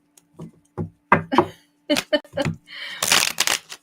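Tarot cards being shuffled by hand, a series of crisp riffling and tapping bursts with short pauses between them, close and fairly loud, ending in a longer rushing riffle.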